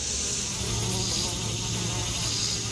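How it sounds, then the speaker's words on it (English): Honey bees drone steadily at a hive while balling up June bugs and driving them out, a dense, continuous buzz that stays loud and close throughout with no talking. "These bees have got June bugs balled up. They're kicking them out."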